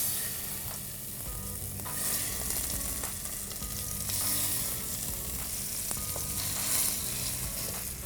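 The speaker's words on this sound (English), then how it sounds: "The oil is heated up. Let's drop in pieces of marinated chicken." Marinated chicken pieces for a West African peanut stew fry in hot oil, a steady close sizzle and crackle running throughout with light stirring sounds, no talking.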